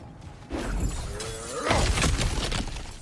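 Rocks and earth shattering as a character smashes through cracked ground in God of War Ragnarok, a sharp crunching break followed by a louder burst of crumbling debris and game sound effects.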